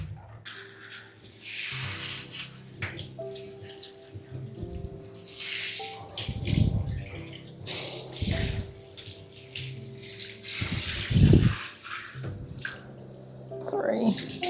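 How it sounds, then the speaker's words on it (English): Hair being rinsed with an herbal vinegar rinse, water splashing and pouring in uneven bursts, with a couple of louder gushes, while someone talks intermittently over it. "I think that's enough rinsing"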